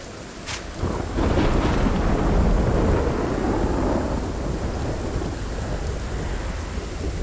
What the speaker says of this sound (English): Man, that is a crazy storm.